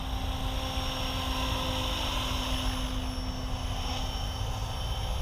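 A SAB Goblin RAW 580 radio-controlled helicopter on its maiden flight makes a steady, loud rotor whine and buzz with a strong sustained tone. The sound holds constant throughout, without talk.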